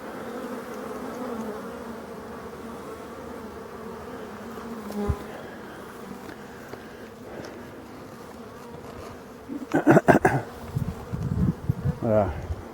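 Steady buzzing of many honeybees close by in mid-October, a continuous hum with brief louder bursts near the end as bees pass right at the microphone.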